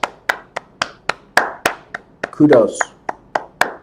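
Hands clap in a steady, evenly spaced rhythm of about a dozen sharp claps, close and clear, with a brief spoken word and a short burst of other noise in the middle.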